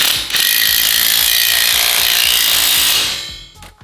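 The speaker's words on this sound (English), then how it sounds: "So once we've drilled, we position the screw, grab the impact driver and the size 13 socket." An impact driver fitted with a 13mm socket drives a screw into concrete: a loud, close, continuous rattling hammer buzz lasting about three seconds, then winding down and stopping with a brief clatter.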